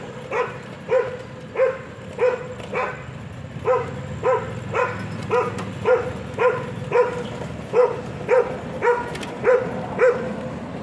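A dog barks repeatedly at a steady pace, a dozen or more sharp woofs close by, over low outdoor background noise on a morning outing near security guards.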